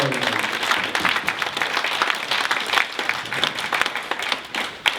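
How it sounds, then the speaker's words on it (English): Wedding guests at a reception clap for the ushers, a lively, dense round of applause with scattered sharp claps, steady throughout and with a voice briefly audible at the start. "A round of applause for the ushers in the"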